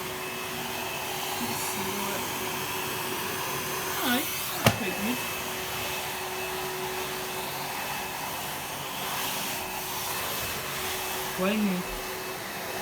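A Henry cordless vacuum cleaner switched to its high setting runs with a steady, fairly quiet whir while it picks up crumbs, a few short spoken remarks and brief knocks over the hum.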